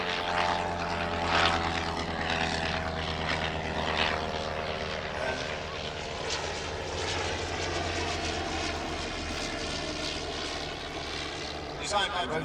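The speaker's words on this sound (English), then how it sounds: "The Sopwith triplane takes off to join the action now." A vintage Sopwith Triplane's propeller engine roars steadily as it takes off at an airshow, a loud buzzing drone that holds and slowly recedes.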